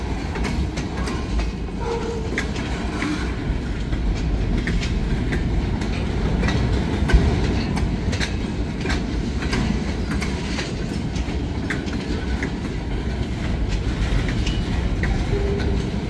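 A long freight train rumbles past nearby with a steady roar and clickety-clack of wheels, occasional faint squeals, continuous throughout.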